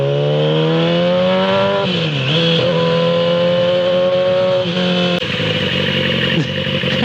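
Motorcycle engine revving loudly and close as it pulls up, its pitch rising and dipping with throttle blips and a steady, continuous drone throughout.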